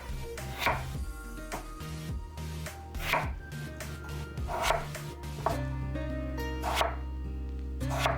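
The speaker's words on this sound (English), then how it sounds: "we will be squaring them off and simply cutting them into small to medium-sized chunks" Potatoes for borscht are squared off and cut into small to medium chunks, a knife thudding onto a board in a steady series of firm chops, with a low kitchen hum underneath.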